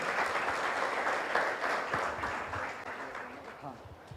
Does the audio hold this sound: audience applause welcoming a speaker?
yes